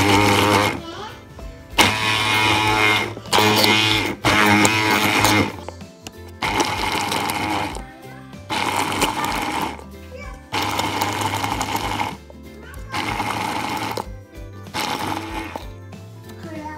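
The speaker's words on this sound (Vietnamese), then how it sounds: "bây giờ mình sẽ dùng máy xay, xay nhuyễn tỏi với ớt ra" A blender grinds garlic and chili into a sauce in repeated bursts of a few seconds each, whirring loudly with short pauses between pulses.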